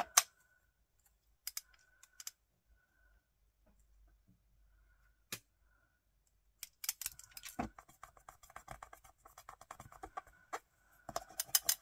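Scissors trim glued paper for a steampunk collage card, with sparse snips early on, then a denser run of small close clicks and cuts against near silence.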